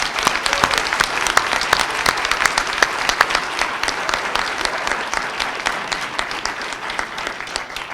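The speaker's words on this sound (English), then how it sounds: "Let's give them a round of applause" Sustained applause from a large audience for faculty advisors at a final student briefing, with dense, even clapping that carries steadily at a moderate, full level with no talking over it.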